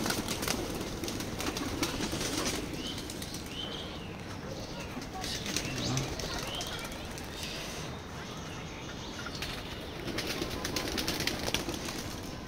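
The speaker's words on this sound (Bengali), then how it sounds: "আমার কবুতরগুলো ছেড়ে দিলাম।" Racing pigeons released from a flying loft in fair weather, with wing flaps and soft cooing amid steady outdoor background noise, the flock's bursts rising and falling through the stretch.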